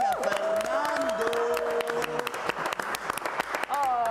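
An audience claps to welcome an artist, with moderate applause and some cheering running beneath a man's singing-like voice, the clapping scattered and steady throughout.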